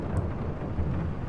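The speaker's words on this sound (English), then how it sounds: "I love the storm effects in this game." Rain and rumbling thunderstorm from the Farming Simulator 22 video game, a low continuous roll of thunder over steady rain, with no voices.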